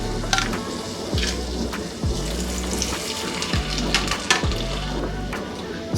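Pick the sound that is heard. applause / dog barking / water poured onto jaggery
water poured onto jaggery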